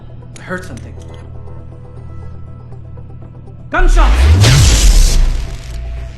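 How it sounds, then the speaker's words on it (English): Gunfire in the Deus Ex Icarus Rising video game prototype: a loud burst of shots and impacts erupts partway through after a quieter stretch, close and dense, with game voices nearby. "Gunshots!"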